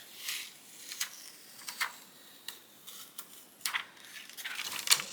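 Backing sheet being peeled off heat-transfer vinyl on a shirt, a quiet series of soft crackling rips and ticks spaced irregularly, faint and close with no talking.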